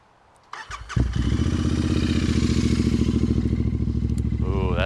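Royal Enfield Continental GT650 motorcycle with the dB killers removed, started cold: a few cranking bursts, then the engine catches into a loud, deep, steady idle close by.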